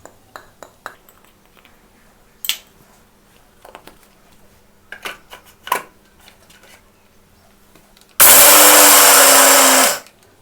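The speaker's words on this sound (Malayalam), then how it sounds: "പീനട്ട് ഇട്ട് ആദ്യം ഈ ചോക്ലേറ്റ് പൗഡർ ഇത് രണ്ടും കൂടെ നമുക്കൊന്ന് മിക്സ് ചെയ്തെടുക്കാം." A kitchen mixer grinding peanuts with chocolate powder starts up near the end, a loud, harsh whirring burst lasting about two seconds after scattered clicks and taps of handling.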